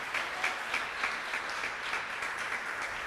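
Church congregation applauding during a Portuguese-language sermon, a dense, even wash of many hands clapping at moderate distance with a faint pulsing rhythm, no voices on top.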